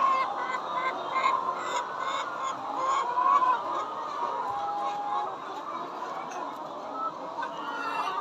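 Laying hens on a large poultry farm holding over four thousand birds cluck and murmur continuously, a dense, moderately loud flock chorus with a few sharper calls rising above it.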